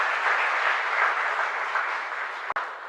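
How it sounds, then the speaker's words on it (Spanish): A parish congregation at an evening Mass breaks into applause, a continuous even roar of many hands clapping that fades slightly toward the end, with no speech over it. "Fuerte aplauso para usted entonces"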